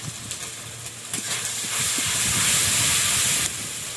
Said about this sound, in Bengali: হলুদ গুঁড়ো, লবণ, জিরে গুঁড়ো, ধনে গুঁড়ো তেলের মধ্যে সব দিয়ে দিলাম।